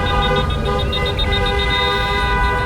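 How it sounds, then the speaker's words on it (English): Car horns honk repeatedly in a sustained, overlapping blare around San Antonio after a Spurs win, loud and close with several tones sounding at once. "And the honking cars all around San Antonio following yesterday's win show how the Spurs brought it home."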